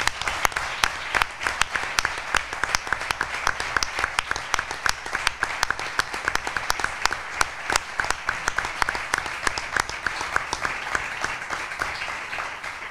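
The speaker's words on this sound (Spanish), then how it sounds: "lo que pido aquí para todos ellos es un fuerte aplauso antes de arrancar" A large audience in a Spanish town presentation event gives sustained, loud applause, a dense continuous wash of clapping that holds steady for the full stretch with scattered sharper claps throughout.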